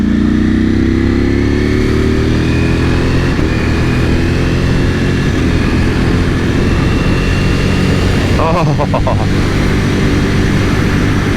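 A 2021 Ducati Panigale V4S motorcycle engine drones steadily while riding, with a loud, continuous low rumble and rising pitch early on, plus brief rattling near the end.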